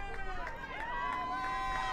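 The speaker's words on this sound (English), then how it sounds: "The crowd looking to make as much noise as possible." Sideline crowd at a Poly Prep versus Hackley girls' varsity soccer match yelling and cheering late in the game, a brief, constant burst of overlapping voices with shrill shouts on top.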